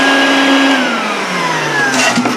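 A sandblast cabinet's vacuum draws air in a steady, loud rushing roar with a thin whining tone gliding slowly downward throughout.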